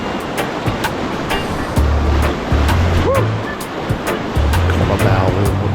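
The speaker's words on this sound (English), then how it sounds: "See Dave come plowing through those waves." River rapids rush and surge continuously around kayakers on the Lower Haw River on a crisp spring morning, with broad churning water and occasional louder splashes and thumps close by.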